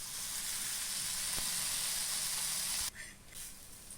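Oil sizzles on a hot griddle pan while a ragi roti cooks, a steady close hiss with a single sharp tick that drops to a quieter, uneven sizzle near the end.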